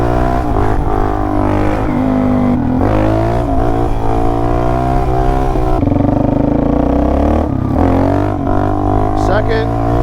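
Suzuki DRZ400 dirt bike revving hard up through second, third and fourth gear during wheelies, loud and close with rising and falling engine pitch and brief gaps at each shift.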